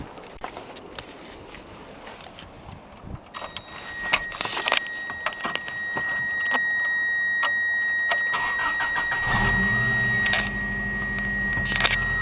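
A 1997 Subaru Impreza GC8 STi RA Version 3 starts up after some clicks and shuffling, the engine catching and settling into a steady, loud idle close by.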